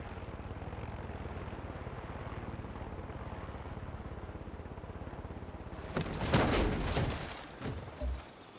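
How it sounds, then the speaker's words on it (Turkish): A helicopter in the video game Far Cry 6 coming down to land: a steady, dense rotor and engine drone runs throughout, then a louder burst of rushing noise and a thump near the end as it touches down. "Şuraya bir indirelim helikopterimizi."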